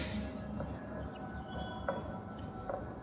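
Chalk or marker writing math on a board in a classroom, faint scratchy strokes in short spaced bursts, soft and steady beneath a low murmur of the teacher's voice.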